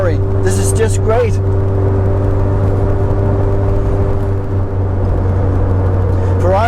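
Cabin of a Ferrari cruising on an open road, a loud steady engine drone and road noise, with someone talking over it.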